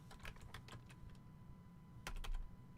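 Someone types on a computer keyboard in quick clusters of close key clicks, with a pause between bursts over a low steady hum.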